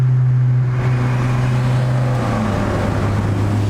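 A Stage 2 tuned Audi A4 with about 300 horsepower pulls hard on the road, heard from inside as a loud, steady engine drone that shifts pitch partway through, with no talking.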